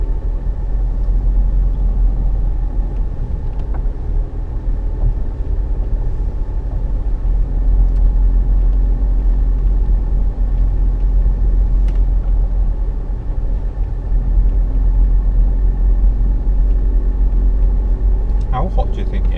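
A 4x4 engine idling in first gear on a scenic countryside track, a steady loud low rumble running unchanged throughout with no talk over it.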